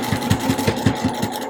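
A sewing machine back stitches across a seam to reinforce it while making a small AirPods case holder, giving a rapid, even mechanical chatter of needle strokes at close range.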